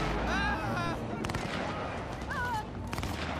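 Gunfire from the video game Cyberpunk 2077 on PlayStation 5: several bursts of shots against a steady game soundtrack, with brief voices in the game mix.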